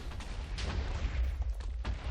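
Explosions in the Minecraft modpack FTB Infinity Evolved, with a series of muffled booms and pops going off in quick irregular succession, faint and distant under a low rumble, and no one talking.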